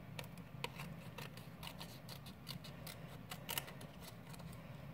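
Faint, quiet snipping of scissors at close range over a steady background hum, with irregular small clicks and cuts scattered throughout.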